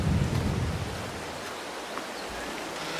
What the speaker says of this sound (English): I've been waiting for the rain to stop